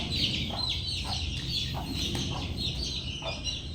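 Backyard chickens gathered at feeding time cluck and chirp in short repeated bursts against a constant background hiss, the calls moderately close and fairly soft.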